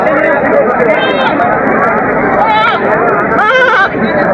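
Goats bleating at a busy goat market in Teberia, Natore, several loud, wavering calls close by, rising over a constant hubbub of crowd chatter and nearby talk.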